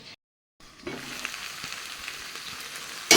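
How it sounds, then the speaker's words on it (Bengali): Potatoes, onions, beans and cauliflower fry in a pan, giving a steady close sizzle that starts after a brief silence and runs on evenly, with a louder burst at the very end. "এখানে আলু পেঁয়াজ করি ভাজা বসিয়ে দিয়েছি এর মধ্যে একটু বিনস আর ফুলকপি দিয়ে দিয়েছি"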